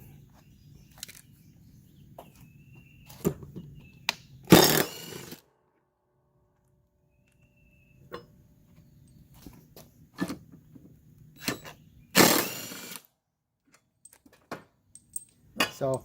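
A DeWalt 20 volt cordless impact tool removes the blades from a John Deere 445 mower deck in two short loud bursts, with scattered metallic clinks and taps between them.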